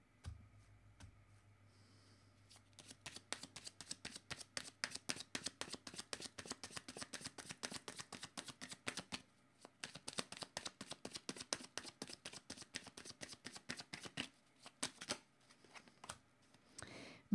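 A tarot card deck being shuffled close up: fast, crisp runs of papery clicks and riffles that go on steadily for many seconds, with a short break partway through.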